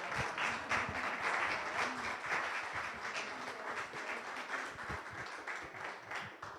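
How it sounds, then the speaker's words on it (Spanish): An audience at a medical talk applauds warmly, many hands clapping in a dense, sustained burst that stays fairly even across the whole stretch. "Denle un aplauso,"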